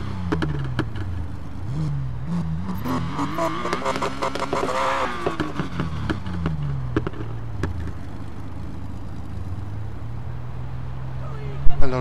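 Upgraded Porsche GT3 RS engine in the racing game Need for Speed Payback, revving up through a rising, falling whine, peaking loudly mid-way before settling to a steady idle hum, with a few sharp clicks at the end.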